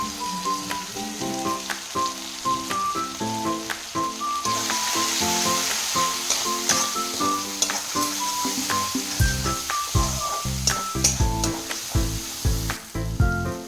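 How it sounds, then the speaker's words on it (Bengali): Spices are poured into hot oil in a kadai while cooking kabuli chana, giving a loud, continuous sizzle with irregular clinks and scrapes of stirring, and no one talking. "এবার আমি সব মশলাগুলো কড়াতে ঢেলে দেব।"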